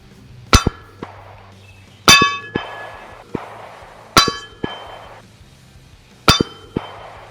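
9mm pistol rounds strike an AR500 steel target at an outdoor range: four sharp, ringing metallic clangs about two seconds apart, each trailed by softer clinks as the plate swings.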